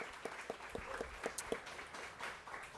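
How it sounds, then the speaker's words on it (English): Scattered, faint applause from a small audience at a Louisville food event, a few distinct claps standing out in an uneven rhythm over quiet room noise. "Let's give them all a round of applause"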